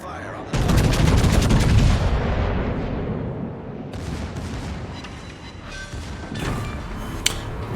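Battleship main guns fire in World of Warships aboard the Pommern, a heavy booming salvo followed by long rumbling decay and further softer blasts, loud and close.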